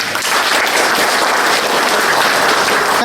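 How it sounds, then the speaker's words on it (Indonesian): A room full of people claps steadily, a dense, loud burst of applause that holds at an even level throughout. "Tepuk tangan dong."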